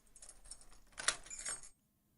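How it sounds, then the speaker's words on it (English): Jangling keys, offered as a door-lock sound effect: a close, bright metallic rattle that builds to a sharp clink near the middle, then stops abruptly into silence. "That's just someone with keys, which makes sense."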